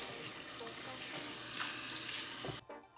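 Water runs steadily from a bathroom faucet into a sink in a Chicago home, a soft continuous splash that stops abruptly near the end.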